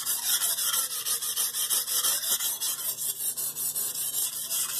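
A knife blade scraping back and forth on a low-grit sharpening stone in quick, even strokes, a continuous rhythmic rasp heard up close and alone.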